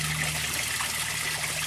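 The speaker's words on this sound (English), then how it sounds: "We've got the water coming into the grow bed." Water from an aquaponic fish tank runs into a grow bed, a steady, close, continuous trickling flow with no speech over it.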